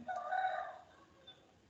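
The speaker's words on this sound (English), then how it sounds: "sorry, that rooster was making sound" A rooster crows once at a distance, a faint, bright drawn-out call lasting under a second that trails into quiet room noise.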